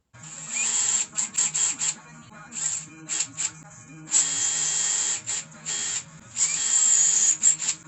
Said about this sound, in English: I'm going to get drilling and enjoy